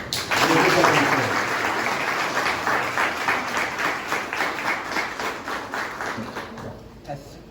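An audience applauds at the end of a religious lecture, loud sustained clapping that gradually thins out and fades over several seconds.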